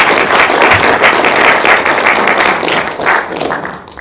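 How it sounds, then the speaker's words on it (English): An audience applauds for a speaker, the dense clapping loud and close, holding steady before thinning slightly toward the end. "let's give Sion a big round of applause."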